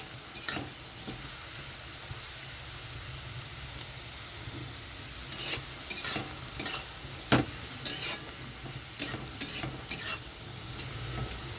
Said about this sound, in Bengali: আলু বিনস গাজর খুব ভালো মতো ভাজতে হবে